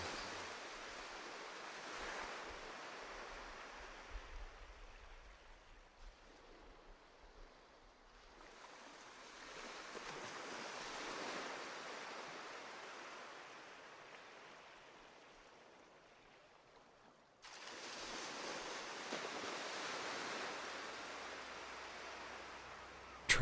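Broadband ocean surf swells and recedes in three long washes, with quiet troughs between them. No voices, just steady rolling waves.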